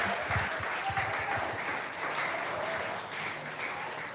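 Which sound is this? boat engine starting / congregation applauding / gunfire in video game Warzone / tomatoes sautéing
congregation applauding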